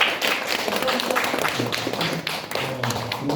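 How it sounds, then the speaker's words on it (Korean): Audience applause for a speaker after a policy talk at a party launch ceremony in an auditorium, a short burst of brisk clapping with a few louder taps, steady and moderately close throughout. "뜨거운 박수 한번 부탁드립니다"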